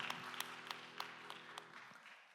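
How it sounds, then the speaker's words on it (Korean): A congregation claps together during a Sunday youth worship service in a Korean church, producing a faint, steady patter of applause for a couple of seconds before it tapers off. "우리 박수로 서로의 신앙과 삶을 응원합니다"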